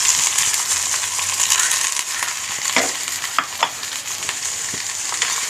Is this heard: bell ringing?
no